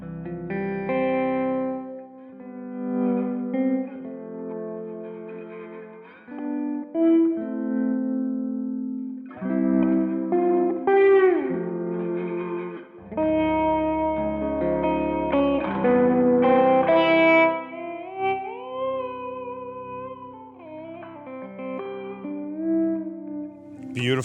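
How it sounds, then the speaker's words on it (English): Electric guitar plays chords and single notes through a plate reverb pedal, notes ringing out and trailing off, with a bend and sustained lines, no talking. "but if I want more, I have this plate sound."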